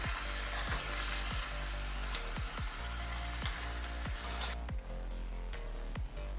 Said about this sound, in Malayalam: ഞാനിതൊന്ന് ഇളക്കി കൊടുക്കുക. ഉപ്പൊക്കെ ഇതേടി ചിക്കനേലൊന്ന് പിടിക്കാൻ വേണ്ടി.